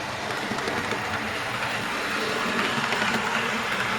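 Clan Line, a Merchant Navy class steam locomotive, hauls a steam special through southeast Kent, a steady rumbling roar of train and carriages passing close by without a break.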